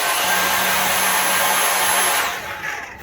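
A Dyson vacuum cleaner runs with a loud, steady whine and airflow roar after its brush and hose were cleared, then cuts off and winds down near the end.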